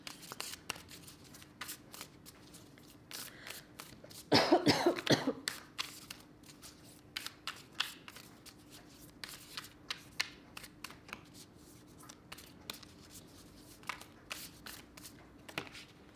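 Tarot cards shuffled before a final draw, soft scattered riffles and taps close by, broken early by a short loud cough or throat clearing, then quieter shuffling continues with no talking.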